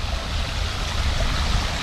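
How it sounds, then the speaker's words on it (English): Water spills steadily over several rock drops of a small pondless backyard waterfall with a pump-fed basin, a continuous close splashing rush without talking. "This is our water feature that they can see from up at the house."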